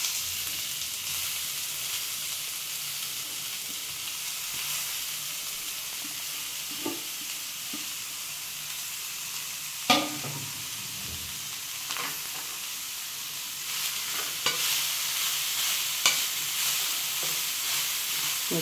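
Grated carrot sizzles and fries in ghee for carrot halwa while a spoon stirs it, giving a steady close hiss broken by occasional scrapes and clicks against the pan.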